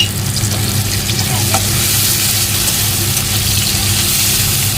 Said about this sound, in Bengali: পেঁয়াজটা লাল হয়ে গেছে টমেটো দুটো দিয়ে দিই